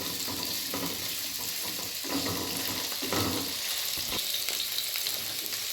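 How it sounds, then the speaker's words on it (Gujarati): Paneer frying in oil in a pan until brown, a continuous crackling sizzle with bursts of louder spattering and some stirring clatter, close up and without talk. "ત્યાર પછી આપણે જે પનીર લીધેલું છે તેને એકદમ બ્રાઉન કલર જેવું શેકી લઈશું."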